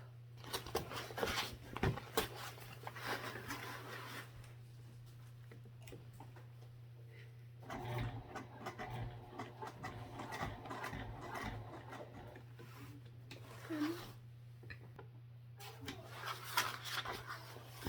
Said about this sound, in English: And we'll sew each side and across the top.